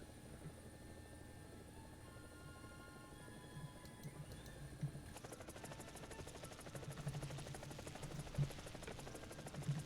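Italian helicopter in the War Thunder video game, its rotor chop steady and continuous, faint and distant, growing slightly fuller and more pulsing partway through.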